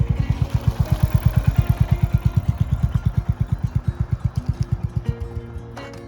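A 350cc motorcycle engine cruising on a highway, giving a loud, steady, rapid thumping pulse that holds even and then eases off toward the end, with no voices.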